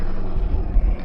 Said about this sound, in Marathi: अरे वाकडं तिकडे का चालतं हेलिकॉप्टर असं बघ ना